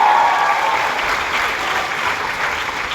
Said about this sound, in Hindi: के लिए जोरदार तालियां होना चाहिए।